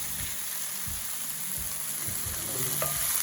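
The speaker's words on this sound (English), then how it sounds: "Just going to give our onions a little bit of colour." Onions frying in oil for a Rogan Josh meatball dish, a steady close sizzle with occasional stirring scrapes and soft clinks throughout, no talking.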